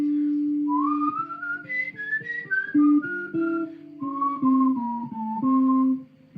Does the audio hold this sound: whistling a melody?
yes